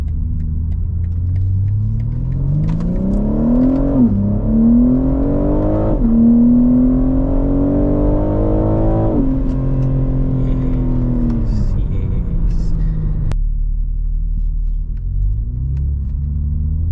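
BMW M3 fitted with a new exhaust, heard from inside while accelerating hard: a loud, rising engine drone climbing through gear changes, dropping back and winding up again, then settling to a low rumble.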